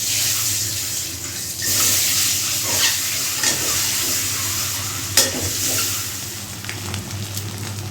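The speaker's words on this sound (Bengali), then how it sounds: "ডিম ছুলাইয়ে এবার ডিমগুলো আগে ভেজে নিলাম।" Boiled, peeled eggs fry in a pan in a home kitchen with a steady, close sizzle, punctuated by occasional clinks and stirring sounds, with no one talking.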